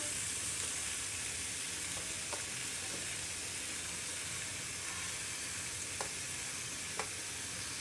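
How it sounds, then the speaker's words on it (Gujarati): Tomatoes and onions cook in a pan over low gas for a paneer curry, giving a steady, even sizzle with a few faint ticks and pops. No one speaks. "પહેલાં આપણે બધા ટમેટાને ગોઠવી દઈશું એટલે એ સારી રીતે કૂક થઈ જાય"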